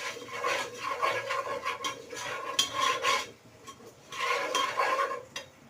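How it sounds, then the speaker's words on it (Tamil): A spoon stirs a pasta mixture with ghee and maida in a pan, making a repeated scraping, rasping sound in uneven bursts, close and fairly loud, with a short pause near the middle. "இப்போது நல்லா ஒரு வாட்டி கலந்து விட்டுக்கலாம்."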